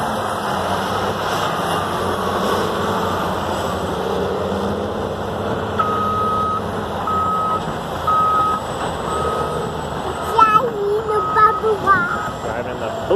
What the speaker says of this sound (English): Driving the bulldozer.